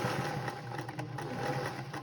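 An older sewing machine stitching a quilt binding on a star table topper, a continuous close mechanical hum with rapid needle chatter, steady throughout.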